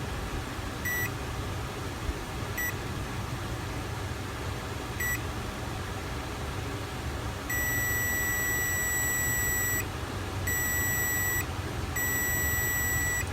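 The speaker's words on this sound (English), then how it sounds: "Hopefully you can hear that beep." A Zenith 7G605 Bomber shortwave radio gives off several short, evenly spaced high beeps, then a longer sustained tone that breaks and resumes, all over steady static hiss.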